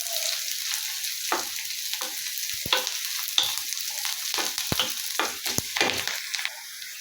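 Sliced onion and green chili sizzle steadily in a hot pan for a South Indian dahi curry, with scattered scrapes and taps of a spoon stirring, no voices.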